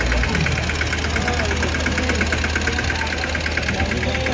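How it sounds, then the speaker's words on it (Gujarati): A loaded tractor's engine runs past at a village temple festival, giving a loud, steady, knocking diesel rumble that continues unbroken throughout. "ટ્રેક્ટર ભરીને જાય જો ભાઈ."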